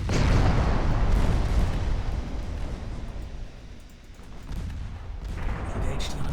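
Naval gunfire from a video game of dreadnought-era fleets, with cruisers, destroyers and a battlecruiser in action: heavy rumbling booms roll on continuously, loud and dense, fading a little midway before building again.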